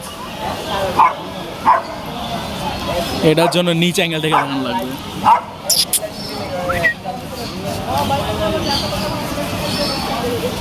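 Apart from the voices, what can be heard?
bulldog barking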